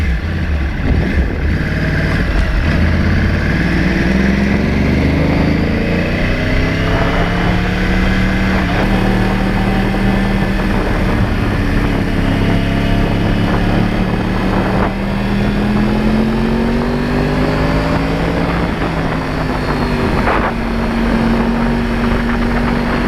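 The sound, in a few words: Crossplane Yamaha R1 motorcycle riding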